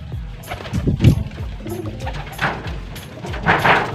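Homing pigeons coo in low, repeated throaty burbles close by, with soft rustling and a few brighter bird sounds in between and no speech.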